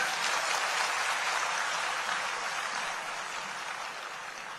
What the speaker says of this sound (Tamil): ஸோ அதுக்கே இவருக்கு பலத்தை கைத்தட்டல் கொடுக்கணும் நீங்கள்